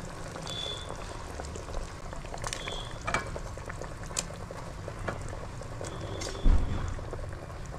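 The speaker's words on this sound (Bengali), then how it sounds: "কড়াইতে একটু গরম জল ঢেলে ইলিশ মাছ ও আলুগুলো দিয়ে কড়াইয়ের ঢাকনা আটকে ফুটতে দিলাম" Hilsa fish and potatoes simmering in hot water in a covered wok, a soft continuous bubbling with occasional small ticks and a brief louder knock near the end.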